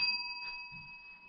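A servant's bell at the Lord Haldon Hotel gives a single clear, sustained ring that hangs evenly and faintly through the whole moment, with soft background rustles beneath it.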